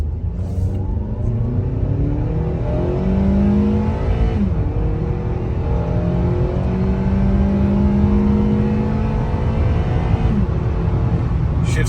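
A 2010 Acura TSX with freshly changed transmission fluid and filter pulls hard from low speed, its engine rising in pitch, dropping at a gear shift, then climbing again, loud and steady from inside the cabin.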